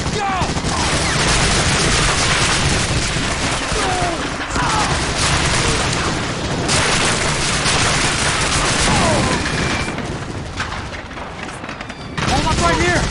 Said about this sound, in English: Two MG-42s plus enfilade from that bunker!